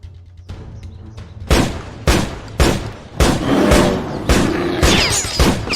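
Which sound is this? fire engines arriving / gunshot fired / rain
gunshot fired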